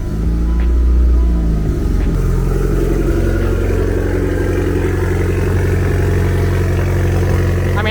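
A vehicle's engine, just back together after a transfer case swap, rumbles loudly at close range, with a deep steady idle and a brief rev early on before settling into a low drone.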